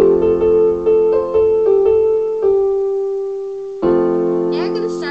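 Piano playing the melody of a song: a series of clear single notes struck in a halting rhythm, each ringing and decaying, followed by a louder chord-like note near the end.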